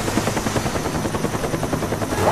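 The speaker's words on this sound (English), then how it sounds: "Friendly spy plane inbound" During a Call of Duty: Black Ops team deathmatch, an aircraft passes overhead with a loud, continuous throbbing rotor-like drone and a pulsing beat, steady and close with no speech.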